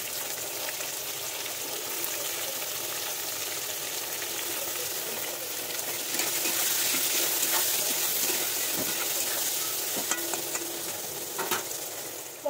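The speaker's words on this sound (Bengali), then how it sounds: "এর মধ্যে পেঁয়াজটা আমি দিয়ে দেবো।" Onions frying and being stirred in a pan with paneer and cauliflower, a steady bright sizzle throughout with occasional scraping strokes of the spoon, fairly close and without talk.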